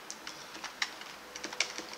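Typing code on a computer keyboard: scattered light key clicks with a few sharper, louder strokes, close and fairly quiet, no talking.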